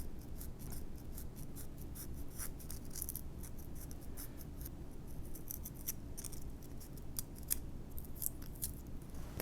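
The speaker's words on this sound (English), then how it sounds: "What I'm going to do is I'm going to cut a sliver of the foam away." A razor blade slices a thin sliver of foam from a P40 SkyFx model airplane, giving a steady scratchy cutting sound with close, repeated strokes and no talking.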